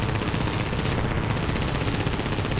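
Bomber gunners rattle off .50 cal machine gun fire in War Thunder, a loud, dense, rapid burst that runs without a break for a couple of seconds, close and alone.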